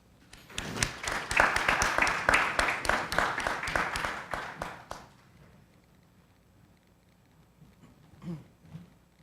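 A smaller audience at a family-mediation forum gives a burst of applause with distinct individual claps, loud for about five seconds, then stopping abruptly into quiet room tone with a couple of faint knocks.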